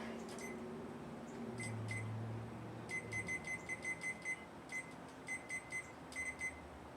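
A kitchen timer beeps in quick bursts of rapid high-pitched chirps, repeating several times over faint background hum after a few button presses, while bacon cooks on a sheet pan in the oven.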